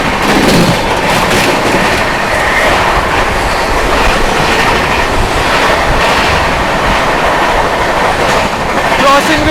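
A passenger train travelling from Bihar to Delhi rumbles loudly and steadily on its rails, heard from inside with a continuous roar and faint clatter throughout.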